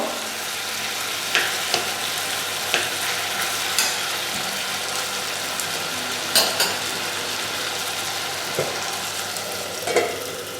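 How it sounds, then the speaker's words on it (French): Meat browns and sizzles in a pan for Nepalese dal bhat, cooked outdoors under a tent, with a steady crackling hiss broken by occasional louder pops and clinks of stirring. "on entend rissoler la viande."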